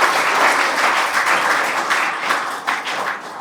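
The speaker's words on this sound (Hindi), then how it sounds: "एक बार तालियां बजाकर आप अपने स्कूल की फैकल्टी के लिए तो उसके लिए कर सकते हैं" School students applaud during a basic life support training event at a senior secondary school, a loud, close, continuous patter of many hands that fades slightly toward the end.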